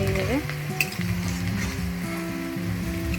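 Sliced onions frying in a pan for chicken kosha, a steady close sizzle with stirring and scraping over the full stretch, with faint background music and no talk.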